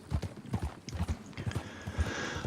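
A horse's hooves clip-clop at a steady walking rhythm in the video game Red Dead Redemption 2, close and clear, with a soft tonal ambience rising near the end and no talk.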